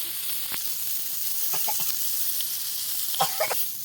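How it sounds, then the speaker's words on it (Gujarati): Pomfret fish frying in oil in a kadai, a steady high sizzling hiss with a few faint pops and clinks, close and even throughout. "તેલ નાખી દીધું ભાઈ અને પાપલેટ નાખી દીધી છે તળવા માટે"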